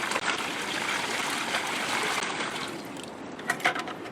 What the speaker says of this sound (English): put a large plant like this in a large tub